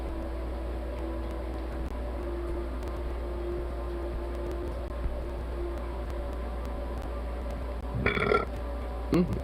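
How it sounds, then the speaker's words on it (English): Single burp, brief and close, rising near the end over a steady background hum and faint murmuring. "That was a nice burp."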